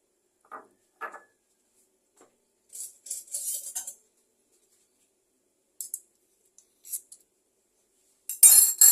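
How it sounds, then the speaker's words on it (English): A spoon scoops solid, unmelted butter into a VEVOR bread maker pan, giving a few sparse, separate clinks and scrapes with long silent gaps between them. "I'm going to put in the butter, 2 big spoons of butter"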